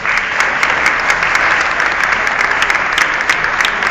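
Dense applause from an audience at a legislature ceremony, a continuous loud wash of many hands clapping, close and steady for the whole stretch with no voices standing out.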